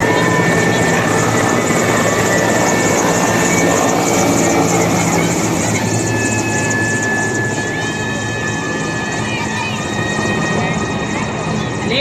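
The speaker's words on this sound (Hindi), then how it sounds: "please shift your gaze towards the Kartavya Panjal Airport helicopters flying the Dwaj formation" Loud, continuous rotor thump and turbine whine of several helicopters flying in formation over a Republic Day parade on Kartavya Path, with crowd and announcer talk underneath.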